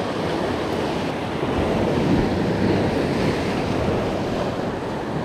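Sea waves and surf breaking at dawn on a rough sea, heard from the shore while fishing: a steady, loud, continuous wash of surf with wind noise, no voices.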